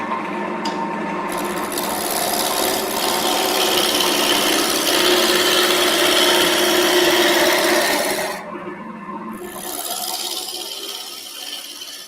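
A wood lathe spins a blank while a tool knocks the corners off to make it round, giving a loud, continuous, rough scraping hiss that dips briefly near the end before going on.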